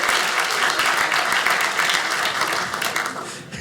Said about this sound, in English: By applause, how many people have children?